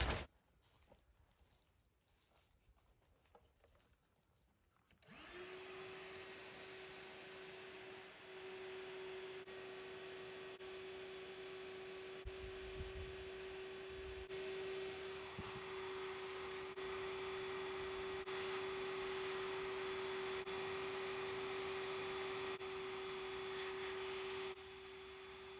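A small portable pump at a campsite kicks on after quiet outdoor ambience, then runs as a steady, close, whining drone with a constant tone until it stops near the end.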